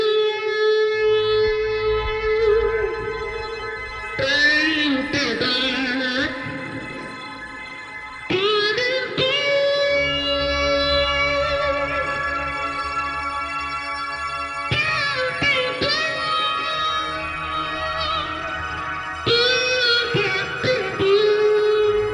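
A single voice heavily processed by a machine into layered, harmonised synthetic tones, swelling in sustained chords that shift in several distinct sections with no ordinary speech.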